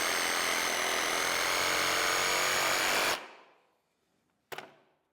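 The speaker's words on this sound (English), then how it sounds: "Now we can get the Sawzall and just give it a little zit." A Sawzall reciprocating saw cuts loudly and steadily for about three seconds on a post-and-beam barn build, then winds down to silence, followed by a brief sharp knock.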